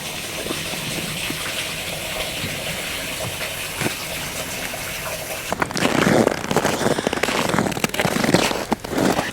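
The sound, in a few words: running water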